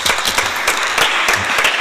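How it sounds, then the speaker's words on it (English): Audience applause at a climate policy forum, a short burst of brisk, fairly loud clapping from a crowd with no talk over it. "one round of applause for Alexander's team"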